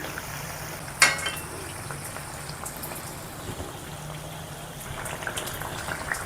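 Sweet pumpkin garige frying in hot oil over a low flame, a continuous bubbling sizzle with a sharp clink near the start and small pops as pieces are turned, no talking.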